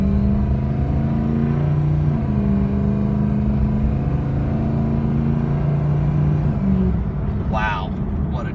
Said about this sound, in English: I'm going to shut up for just a second and make a turn here.